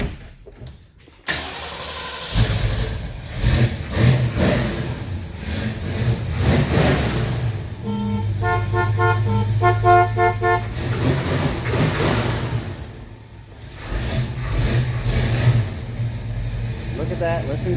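A 1969 Ford Mustang Mach 1 Fastback cranks and fires, then its V8 rumbles and revs in several loud bursts with a brief horn-like tone in the middle, while people talk nearby.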